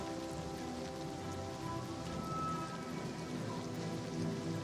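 Steady rainfall in the Oblivion Remastered video game, a continuous even patter of drops on the landscape with no talking, filling the whole stretch at moderate level.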